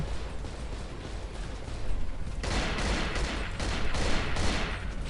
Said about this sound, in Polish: Ła, coś do mnie strzela, no zajebiście.